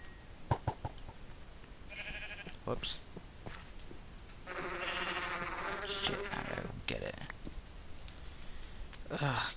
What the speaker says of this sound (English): Kill the damn bees.